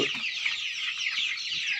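Desi chickens of mixed pure breeds cluck in a steady, close chorus with overlapping calls, an occasional deeper cluck standing out near the start and again toward the end.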